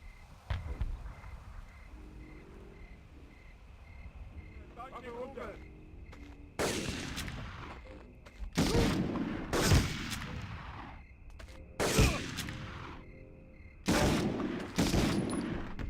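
Gunfire from the Medal of Honor video game, with sharp shots cracking in irregular bursts over a quiet background hum, some shots louder and closer than others.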